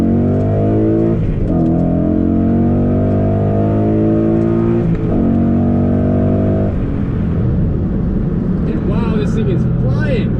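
A 2014 Mustang GT with a short-throw shifter accelerates hard, its engine revving up loudly through the gears with brief dips at each shift, then settling into rougher engine noise.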